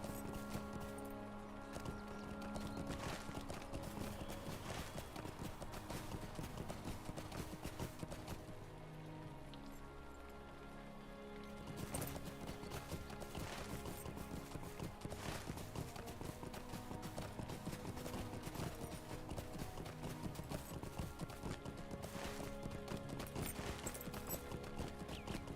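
A horse mount gallops in Lord of the Rings Online, hooves clip-clopping in a rapid, steady rhythm over dense game music for a long stretch, loud and continuous.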